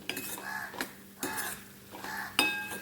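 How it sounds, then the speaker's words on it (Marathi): Raw sweet corn kernels stir-fried in a pan over raised heat for a Maharashtrian usal, with a spatula scraping and clinking against the metal in three or four distinct strokes over a soft, steady background. "आता ह्याला थोडासा गॅस थोडा मोठा करून ह्याला मी परतून घेते"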